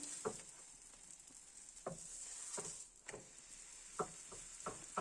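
Msemen flatbread fries in oil in a pan and gets flipped, with a faint steady sizzle under soft intermittent taps and pats of handling. The clicks come irregularly over the quiet hiss, and no one speaks.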